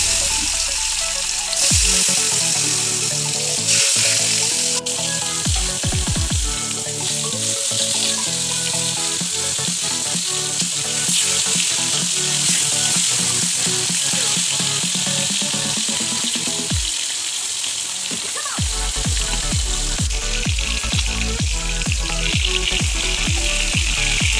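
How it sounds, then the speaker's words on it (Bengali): Katla fish pieces fry in hot oil, a bright, steady crackling sizzle running continuously beneath prominent background music, with no speech. "এরপরে আমি মাছগুলো ভেজে তুলে নিয়েছি লাল লাল করে"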